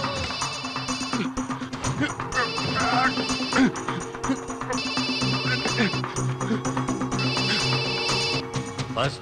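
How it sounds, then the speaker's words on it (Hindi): A telephone ringtone in an Indian action film repeats in regular electronic bursts of trilling rings, loud over a busy dramatic soundtrack with scattered background noise between rings. "काशी, फोन उठा।"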